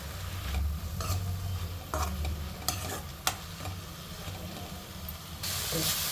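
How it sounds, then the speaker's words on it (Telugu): Tender tamarind leaves sizzle and hiss in a pan as moisture cooks off, with occasional stirring clicks, close and steady, louder near the end. "కొంచెం ఈ వాటర్ నీరు అంత తగ్గేదాకా ఫ్రై చేసుకోవాలి"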